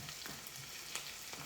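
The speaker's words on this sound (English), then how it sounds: "So right here, you're just stirring." Food sizzling and frying in a pan while being stirred, from an Ethiopian cooking demonstration; a steady crackling hiss with a few soft scrapes, close and continuous, no talking.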